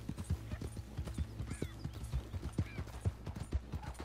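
Horse hooves in the Red Dead Redemption 2 video game: a brisk, even clip-clop of a riding horse on open ground, moderately close and quiet, with a faint whinny and light ambient bird calls.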